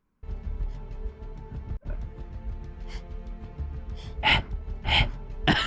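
A woman pants heavily in a Christopher Nolan film scene, with rapid breathy gasps that grow louder and sharper toward the end over a low, steady background.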